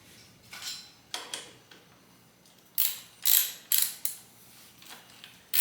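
A ratchet wrench clicks in short, close bursts while tightening a bolt on the wheel of a BMW K16 motorcycle during a tire change, about eight metallic ratcheting strokes separated by brief pauses.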